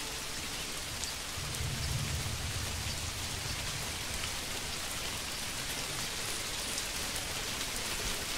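Rainfall in the medieval city-building game Manor Lords forms a dense, even hiss of drops on surfaces that stays constant throughout, with no voices.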